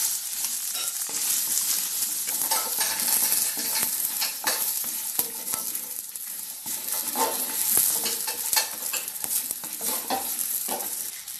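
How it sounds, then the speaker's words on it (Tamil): Ginger and chillies sautéing in hot oil in a pan for a ginger chutney, with a steady bright sizzle and repeated scraping stirs throughout, close and fairly loud, no talking. "இப்போ இந்த இஞ்சியோட இந்த மிளகாயும் போட்டு நான் வதக்கிறேன்."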